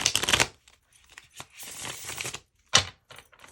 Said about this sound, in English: That was a little bit of a messy shuffle there.